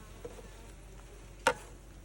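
Honeybees around an opened hive box give a faint, steady buzz, broken by one sharp tap or knock near the end.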